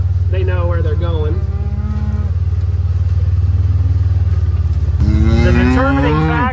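Cattle low loudly and repeatedly at close range while being moved home along a farm route, drawn-out moos over a heavy, constant engine-like rumble.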